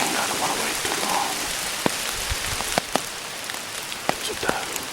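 Steady rain patters on leaves and ground in a forest during an October bow hunt for deer in West Virginia, a continuous hiss broken by a few sharp, close drips.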